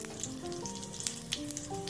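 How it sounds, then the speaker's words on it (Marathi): Steady sizzling of cumin and mustard seeds in hot oil, crackling close by with a few sharper pops, no voices. "यामध्ये आता थोडेसे जिरे घालूयात फोडणीसाठी, थोडीशी मोहरी घालूया"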